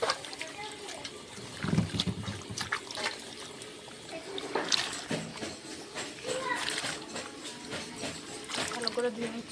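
Cut vegetables being washed in water: splashing and sloshing with intermittent clatter, close by, while someone talks over it.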